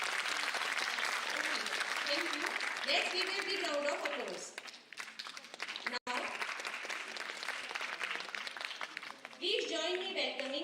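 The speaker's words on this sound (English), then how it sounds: "Let's give a big round of applause." Conference audience clapping after a presentation, a sustained patter of applause that dips briefly midway, with a voice speaking over parts of it.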